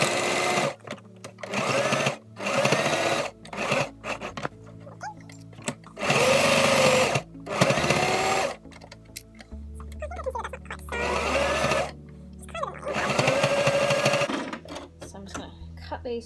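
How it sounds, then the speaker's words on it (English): A sewing machine stitches fabric in several loud, buzzing bursts separated by short pauses, running close by. "So let's give this thing, I'll give this one a sew."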